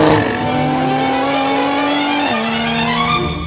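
A Lotus sports car engine holds a loud, close, rich harmonic drone that dips sharply in pitch partway through, as if shifting, then settles again, with no talking.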